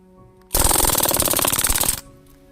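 A Crosman DPMS SBR airgun fires on full auto in one loud, rapid burst of closely spaced shots lasting about a second and a half, with a quiet background before and after.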